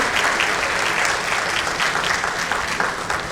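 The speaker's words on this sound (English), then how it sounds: "can we have another round of applause, please, for Mangesh and Jyotsna?" A panel-discussion audience applauds two speakers after a conversation on sustainable economic growth in rural India, a steady, dense wash of many hands clapping together, sustained throughout with no voices on top.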